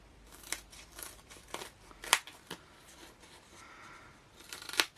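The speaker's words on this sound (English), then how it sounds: "in with the scissors, and I'm just going to trim as close to the cardstock without actually cutting the cardstock as possible" Scissors trim cardstock close to a stamped piece, giving a series of crisp, sharp snips spaced irregularly, some loud and close, with faint paper rustling between cuts and no talking.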